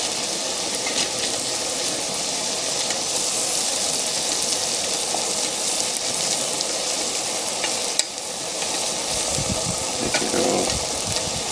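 Keto jambalaya is stirred in a pan cooked outdoors, producing a constant loud sizzle with scraping and stirring noises throughout. A voice speaks briefly.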